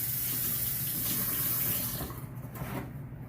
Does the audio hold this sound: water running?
yes